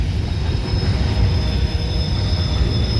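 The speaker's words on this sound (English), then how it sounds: "Grain train from out west." A CSX freight train passes close at Fostoria, Ohio, its wheels squealing in a sustained high-pitched whine over a heavy, steady rolling rumble.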